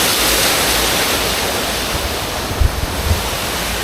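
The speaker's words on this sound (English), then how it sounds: "You got a waterfall at the entrance." A waterfall at the entrance of a park in a Cambodian gated city gives a steady, loud rush of falling water, broad and unbroken. A few faint low thumps come near the end.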